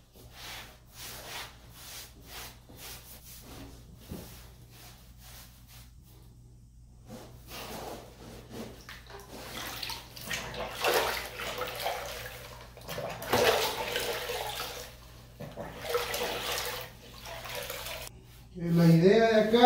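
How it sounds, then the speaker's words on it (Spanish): A damp sponge rubs in circles over newly grouted bathroom tile, giving soft wet swishing and scrubbing strokes, close and moderate, with pauses between passes and a louder rub near the end. "vamos a ir limpiando con la esponja. Que la esponja vaya bastante seca, que no vaya muy mojada. Vamos a hacerlo en círculos."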